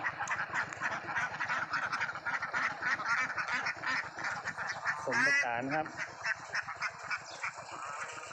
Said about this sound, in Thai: ตอนนี้ที่มีใหม่ ๆ ก็จะเป็น ลูกห่านห้าตัวนี้